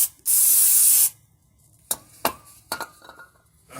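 A single close hiss of cleaner sprayed onto a greasy Ford Econoline E350 part lasts under a second, followed by scattered clinks and light handling noises.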